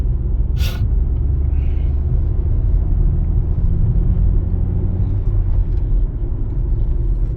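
A car drives along a road full of potholes, its engine and tyre rumble steady and loud throughout, with low thuds from the rough surface and one sharp hiss near the start.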